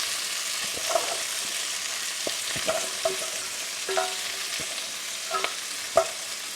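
Arugula, cabbage and pak choy sauté in a pan, a faint background sizzle broken by several sharp clicks and scrapes of a utensil against the pan, close and unaccompanied by talk.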